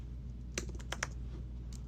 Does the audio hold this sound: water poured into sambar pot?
no